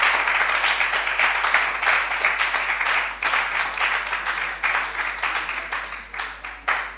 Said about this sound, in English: Please keep the clap, the applause going.